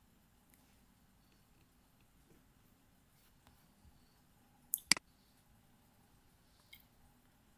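A computer mouse on an office desk gives a quick, sharp double click in the middle, amid faint scattered ticks in a quiet room.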